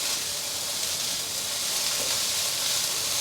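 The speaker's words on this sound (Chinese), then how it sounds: "快速的翻炒均匀" Seasoned cabbage filling is stir-fried in a wok, giving a continuous loud hissing sizzle with no voices.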